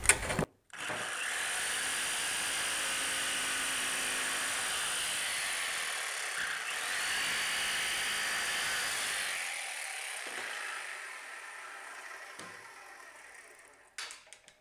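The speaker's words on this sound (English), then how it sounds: "I can use a jigsaw to finish that off" A jigsaw cuts through a wooden rafter at the corner of an angle, a steady loud buzzing whine that runs for about thirteen seconds with no talking.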